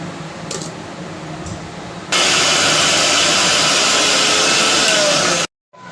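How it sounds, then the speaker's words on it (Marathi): A mixer grinder whirs loudly as it grinds spice paste, its harsh motor roar starting abruptly and running steadily for a few seconds before stopping. "याला आता मिक्सरमध्ये ग्राइंड करून घेऊया मसाला"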